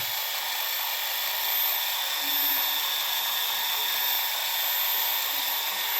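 A small drone's electric motors spin steadily while lifting a weight, making a constant high-pitched whine that holds at an even level throughout.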